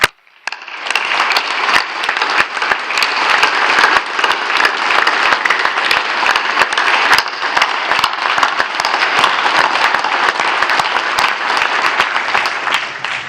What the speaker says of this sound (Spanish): y le aplaudimos.